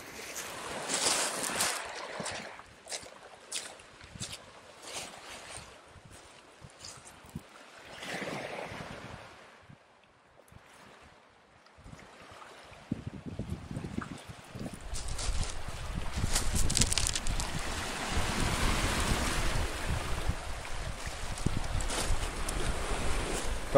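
Sea waves in a small storm on the Crimean coast near Malorechenskoye wash and surge under strong cold wind, with gusts buffeting the microphone and a louder, fuller swell of surf in the last part.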